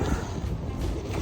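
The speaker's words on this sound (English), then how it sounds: "Very open here, very windy." Gusty wind buffets the microphone in a low, continuous roar on an exposed, open stretch of gravel road in Belgium.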